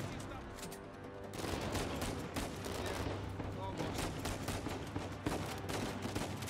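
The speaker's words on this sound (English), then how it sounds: "There you go, a little machine gun action for you, buddy" Dense machine gun fire in the video game Uncharted 4, rapid bursts crackling almost without pause over a noisy game soundscape, with someone talking at times.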